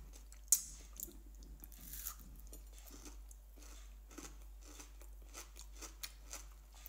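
Crunchy homemade black Dubai chocolate being chewed close up, repeated crisp crunches and bites in an irregular rhythm, quiet overall with a sharper crack near the start.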